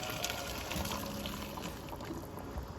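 Boiled water poured into a pot of fried masala for bhuni dal in a home kitchen, a steady close splashing, trickling pour lasting a few seconds with no talk.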